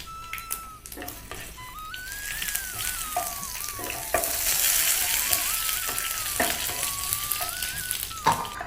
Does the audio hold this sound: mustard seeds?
yes